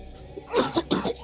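Two quick, close coughs, one right after the other, in an otherwise quiet room.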